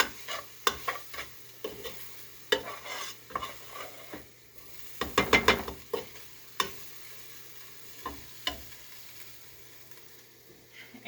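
A spoon stirs chili in a pot, giving scattered scraping and clinking strokes at an irregular pace, with a quick flurry midway, heard close and moderately loud with no voices.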